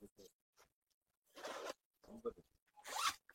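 The zipper on a raincoat jacket is pulled in several short, scratchy strokes, close and fairly quiet, with brief pauses between pulls.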